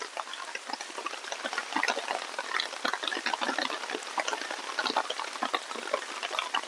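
Rain pounds a tarpaulin sheet stretched over a forest camp, crackling like frying with dense rapid ticks and louder bursts, sustained and close.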